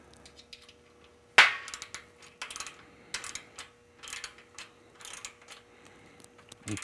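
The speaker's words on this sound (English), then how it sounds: "You just put your wrench on it." A wrench fitted onto a 9mm self-locking nut on a vandal security cover, giving a sharp metallic clank followed by a run of quick ratcheting clicks in short bursts.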